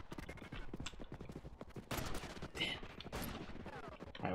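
Rapid bursts of gunfire crackle in the video game Knightfall, a dense irregular volley of shots at moderate level with excited voices talking over it.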